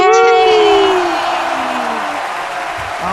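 A crowd cheering and whooping at a giant snail race, a loud burst of yells that fades into a softer wash of cheers and applause.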